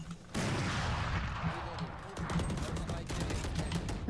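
Rapid gunfire bursts crackle in a Valorant match, a sustained volley close and fairly loud, with a player's voice talking over the shots.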